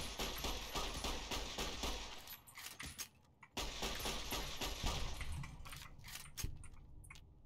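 Rapid gunfire from Fallout New Vegas fills most of the stretch, dense bursts of shots that break off briefly near the middle and then resume with scattered sharper cracks.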